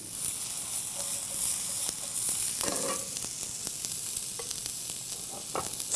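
Green onion sizzles in a hot frying pan, a steady bright crackle with occasional stirring clicks, close and fairly quiet, with no talk.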